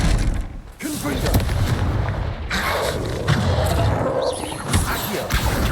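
A Confringo blasting curse goes off in the Hogwarts Legacy video game, giving sharp booming blasts and crashes amid busy combat effects, with a short gap of quiet between bursts.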